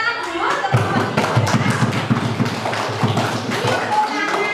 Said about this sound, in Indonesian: Tepuk tangan dulu untuk kelompok tiga.